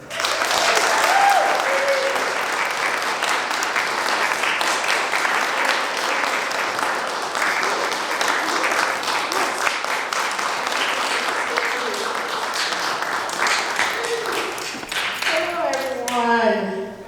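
A lecture audience breaks into loud, sustained applause welcoming a speaker, dense clapping filling the room for most of the stretch before tapering off near the end.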